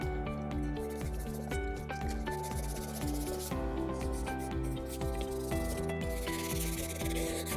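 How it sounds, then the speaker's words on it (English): Car clear coat hand-sanded with sandpaper during a touch-up paint scratch repair, a steady, continuous rubbing scrape under a constant musical background. "You can see as we're sanding how it turns white in this circumstance because of the clear coat."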